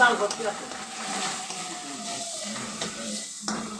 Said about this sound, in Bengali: এটা একটু কষাইলাম বন্ধুর দেখো এটা মশলাটা কষানো হয়েছে